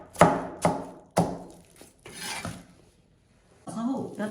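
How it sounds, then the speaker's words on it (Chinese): A knife chops Chinese yam into small pieces on a board, with several sharp close strikes in quick succession followed by scraping and clatter. "再给它切成4半， 也给它切成颗粒感"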